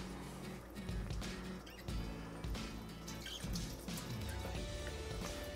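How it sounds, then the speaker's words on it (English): Whey drips and trickles from freshly squeezed homemade cheddar cheese curd, a steady close-up run of small liquid drips with no talking. "Just squeeze out a little extra whey"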